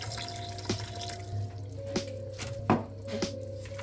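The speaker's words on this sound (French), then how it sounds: "maintenant, ce que je vais faire, c'est que je vais rajouter un petit peu d'eau" Water is added to a pot of Japanese curry, heard as a run of small drips and splashes against a steady low hum, fairly quiet and close.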